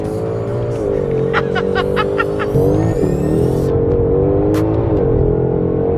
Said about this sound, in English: This has got to be one of the best sounding stock cars of all time, seriously.